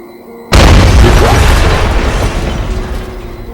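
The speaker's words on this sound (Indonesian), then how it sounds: "sampai pada akhirnya gue ngeh itu bunyi tenda sebelah rubuh" A neighbouring tent collapses at a mountain camp on Merbabu, starting with one sudden loud crash. A rumbling, rustling wash follows and slowly fades over a few seconds, with no voices.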